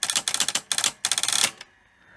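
A Sony SL3000 portable Betamax mechanism, running with no tape inside, chatters in rapid mechanical bursts like a rattling typewriter, two quick runs separated by a brief gap, then cuts off abruptly into near silence.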